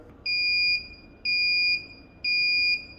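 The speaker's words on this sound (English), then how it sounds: "it has an inbuilt buzzer alarm" The built-in buzzer alarm of a digital differential pressure indicator (model AI-DP1) sounds three evenly spaced, piercing electronic beeps, each about half a second long, loud and close.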